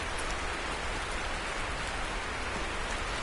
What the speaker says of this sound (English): So this rain is petering over the top of the roof, okay? And we've got rain just dancing on that windshield.